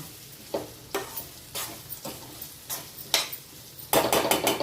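A spoon stirs ivy gourd (tindora) fry in a pan over a steady low sizzle, scraping in about seven quick, evenly spaced strokes, with a busier burst of stirring at the end.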